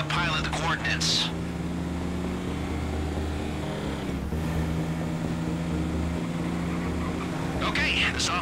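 Steady low engine roar of a helicopter in GTA Online's casino heist throughout, with brief voice bursts at the start and end over the drone.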